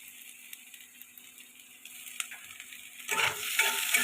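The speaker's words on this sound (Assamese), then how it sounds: "এতিয়া মই মিহি কৰি থোৱা নহৰু আৰু আদা পেষ্টখিনি দি দিছোঁ ইয়াত।" Garlic and ginger paste hits hot oil in a pan while cooking bamla fish. After a quiet stretch of faint crackle, a sudden loud close sizzle bursts up and carries on to the end.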